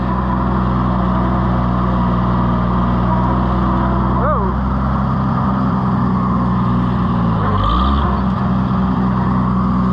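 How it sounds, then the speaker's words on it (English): A tractor on its first farm job runs steadily while towing a New Holland 352 grinder mixer, its engine a continuous low drone throughout, with a brief pitch dip near the end and a voice speaking over it. "This is the first farm task for this tractor since it arrived."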